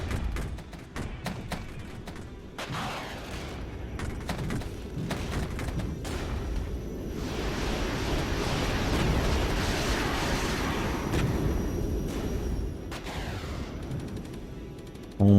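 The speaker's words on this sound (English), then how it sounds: "Let's get in some Harrier rockets on this stuff" Repeated rocket explosions from Harrier strikes in the real-time tactics war game Regiments, a dense barrage of booms and rumbling blasts building in intensity and sustained across the whole stretch, loud and close with no talk.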